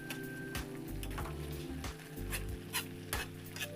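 Shredded cabbage with oyster sauce sizzles steadily in a pan while a utensil stirs and scrapes through it, giving repeated clinks and scrapes close to the mic.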